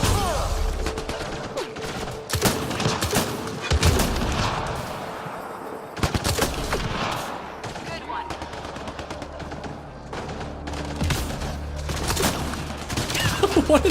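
Sustained video game gunfire from Mass Effect Andromeda, with repeated loud shots and bursts in irregular clusters over a busy background of combat noise and explosions.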